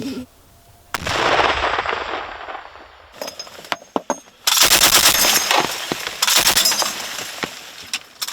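Small arms gunfire near the Bakhmut front line comes in loud bursts of rapid automatic fire with sharp single cracks between them, separated by short quieter gaps.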